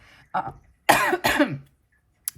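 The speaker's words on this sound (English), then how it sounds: "sorry about all the coughing" Two or three harsh coughs in quick succession from a nearby person, followed by quiet and a faint short sound at the end.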